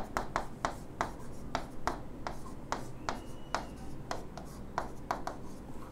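Pen or marker tapping and scratching out a condition during a maths lesson, a run of short sharp strokes and taps at an uneven rhythm, close and fairly quiet, with no talk over it.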